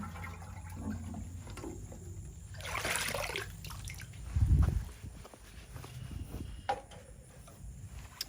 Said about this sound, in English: I'm going to be using my rainwater to fill my watering can.